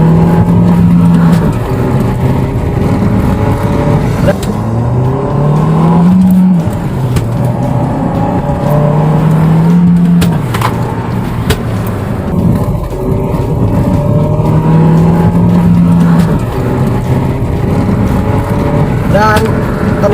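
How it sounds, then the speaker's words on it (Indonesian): A first-generation Nissan Grand Livina 1.8 with manual gearbox pulls hard in second gear from about 3000 rpm, its engine note rising and falling in loud, sustained revving heard from the cabin, with repeated climbs in pitch across the run. "Oke, kita masuk gigi 2, ini di 3000 rpm, kita gaspol."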